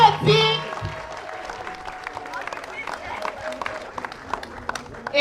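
A crowd at an event for a film production applauds, with scattered clapping continuing at moderate distance after a brief loud voice at the start.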